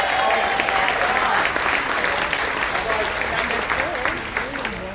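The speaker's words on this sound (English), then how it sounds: "Can you give him another round of applause?" Aboard a Carnival cruise ship during a military appreciation event, a crowd applauds steadily and loudly throughout, with a voice speaking over the clapping.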